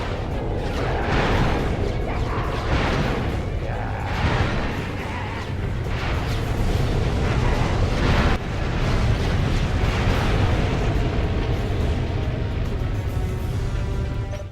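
Torpedoes fired and exploding in the video game Ratchet & Clank: Going Commando, with a dense, loud, continuous rumble of blasts and booms that swell and overlap with no pauses for the whole stretch.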